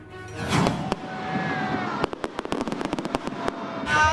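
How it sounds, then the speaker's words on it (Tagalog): New Year fireworks in Manila bang and crackle in a dense cluster, then give way to a string of sharp individual pops spaced irregularly, with a rushing burst near the end. "Kabi-kabila ang fireworks display at meron pang mga street party."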